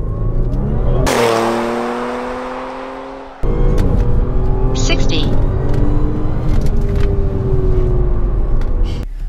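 An Audi S5 or Mustang GT launches hard in a 0-60 run, its engine roaring loud and close, revving up through gear changes with a brief dip and surge in the middle.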